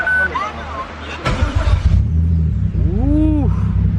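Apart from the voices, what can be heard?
rebuilt car engine starting for the first time and idling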